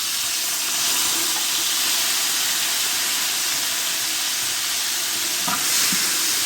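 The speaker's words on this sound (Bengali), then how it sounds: "এবার এই তেলের সঙ্গে দিয়ে দিচ্ছি কাঁঠাল বিচিগুলো ছিলে ধুয়ে হালকা সিদ্ধ করে নিয়েছি।" Boiled, peeled jackfruit seeds frying in hot oil left over from frying pabda fish, a steady close broadband sizzle throughout with a brief stir or clatter near the end, no voices.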